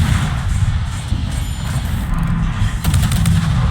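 Steady, dense gunfire in a naval video game as a ship, a Z46 destroyer, comes under fire from several enemy ships, with rapid shots and booming blasts layered continuously and loudly throughout.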